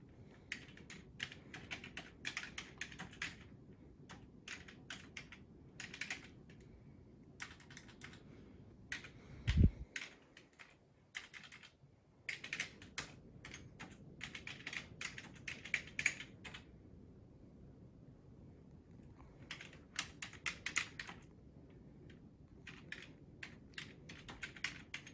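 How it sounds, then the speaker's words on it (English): A keyboard connected to an iPad Pro is tapped in irregular bursts of quick, close keystrokes, with one louder thump and a brief pause partway through. "So I can basically type up the note"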